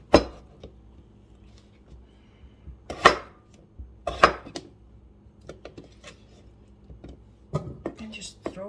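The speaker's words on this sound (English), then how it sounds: "So I'm just going to cut these potatoes." A knife cuts through potatoes in a home kitchen, giving a few sharp, separate chopping knocks spaced seconds apart with quieter clinks and handling noise between them.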